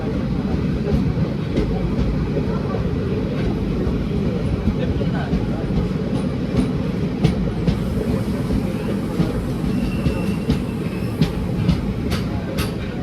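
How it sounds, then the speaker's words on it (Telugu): A fully loaded goods train rolls past at Kamareddy station, a steady continuous rumble with faint rail clatter throughout, fairly loud and unbroken for the whole stretch. "సో ఇది గూడ్స్ ట్రైన్, ఫుల్ ఉంది ట్రైన్ మాత్రం."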